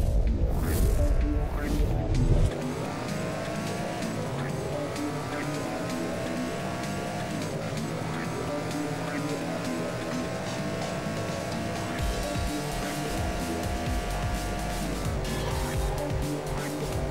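Race cars in the video game Ridge Racer Unbounded roar continuously, engines whining at high pitch with tire squeals as they drift through corners, loud and steady throughout.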